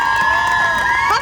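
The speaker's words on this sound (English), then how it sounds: "A big round of applause." A crowd at a school sports meet medal ceremony cheers and whoops loudly, children's high shouts ringing out over a bright, sustained roar, with no distinct clapping standing out.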